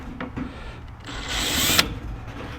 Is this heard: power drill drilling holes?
yes